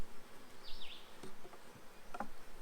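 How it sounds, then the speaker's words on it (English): Honeybees buzzing during a hive inspection while frames are pulled, a soft, close droning hum with a few brief louder passes and light handling knocks, no voices. "Now we're getting into some bees"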